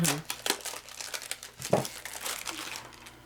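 Packs of fishing-themed trading game cards being torn open, with crinkling and ripping of foil wrappers in quick bursts, close and fairly quiet, with faint talk mixed in.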